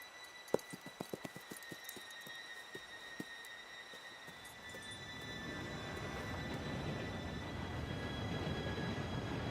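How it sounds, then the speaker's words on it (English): Train pulling in during a Red Dead Redemption 2 heist setup: sharp clip-clop hits at first, then a rising rumbling roar of railcars growing steadily louder and nearer, with a high steady squeal-like tone running across the whole stretch. "Train should be here any minute now."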